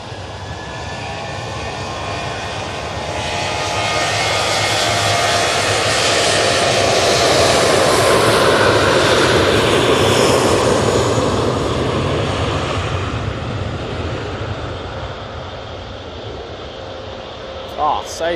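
A TUI airliner departs Manchester Airport for Verona, its broad jet roar swelling steadily to a loud peak mid-clip and then slowly easing off, a sustained wash of engine noise with a faint click near the end.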